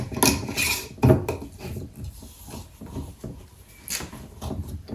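Lid put onto a jar of vodka flavor extract with short knocks, a glassy clink and a few scraping twists, close and alone.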